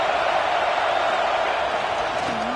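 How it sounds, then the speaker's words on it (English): A stadium crowd in the NCAA 26 college football video game, at an Indiana University game, gives off a loud, steady roar that holds evenly throughout, with no voices standing out. "This crowd bringing the energy and noise early."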